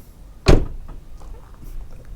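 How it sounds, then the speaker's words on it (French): A 2015 Citroën C3 1.6 HDi door gives one sharp latch click and clunk as it opens, followed by faint rustling and quiet handling. "quand je m'approche et que j'ouvre cette porte"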